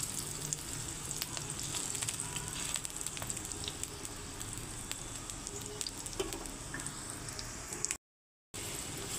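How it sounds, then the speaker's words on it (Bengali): Cheese paratha frying on a hot tawa gives a steady close-up sizzle and crackle that runs unbroken, with a short gap near the end before it resumes. "এখন আমি ভেজে নিচ্ছি পরোটাগুলো আস্তে"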